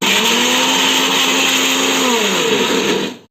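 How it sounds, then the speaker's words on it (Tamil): A mixer grinder grinding onions and green chilies runs at full power with a loud, steady whirring roar that slows and winds down abruptly at the end. "இந்த பச்சை மிளகாயை மிக்சியில் போட்டு ஒரு அடி அடித்து எடுத்து வச்சுக்கலாம்"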